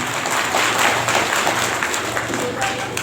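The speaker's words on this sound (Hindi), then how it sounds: "एक बार अपने लिए जोरदार तालियों से अपना स्वागत कीजिए सभी साथी।" An audience gives loud, sustained applause at a speech on the Indian constitution, with steady clapping filling the whole stretch.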